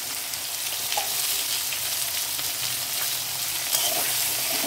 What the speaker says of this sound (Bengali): এদিকে দেখো পটলগুলো আমার প্রায় ভাজা হয়ে এসছে